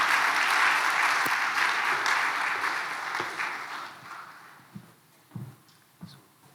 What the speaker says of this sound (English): please, another round of applause will do.